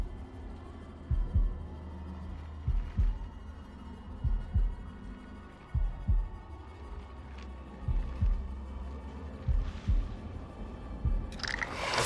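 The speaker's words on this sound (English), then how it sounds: "if I can do this heartbeat session right on the first try" A steady, thudding heartbeat pulses in paired low thumps from the heartbeat sequence in the PS5 game House of Ashes. The beats come at a regular, moderate pace over a dark ambient hum, growing slightly quicker toward the end.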